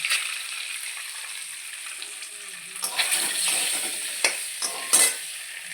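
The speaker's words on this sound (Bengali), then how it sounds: "ডিমটা এবার ভাজা হয়ে এসছে" An egg fries in hot oil seasoned with turmeric in a pan, a constant near sizzle broken in the second half by several louder scrapes and clatters of a utensil moving the egg.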